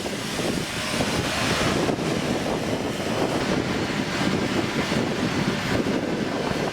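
Strong wind on a very rainy day buffets the microphone in a constant low rumble and rush, unbroken for the whole stretch with no talking.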